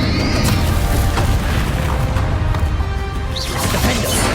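A Confringo fire spell explosion in Hogwarts Legacy, loud booming blasts and crashing impacts packed densely together with game combat noise.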